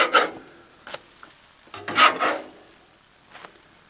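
A wide metal spatula scrapes and flips chocolate chip pancakes on a Blackstone griddle, making a few short rasping scrapes close by, separated by quiet gaps.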